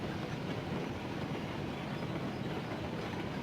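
A heavy freight train in the Railroads Online game rumbles continuously with dense, broadband rolling noise, steady and loud from start to finish with no talk.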